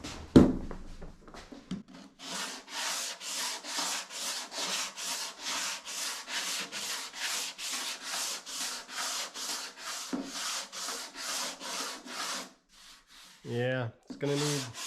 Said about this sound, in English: I'll run the sanding block over it a few times and see what happens